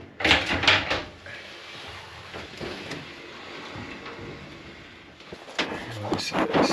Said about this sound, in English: I'm pushing in the outer door.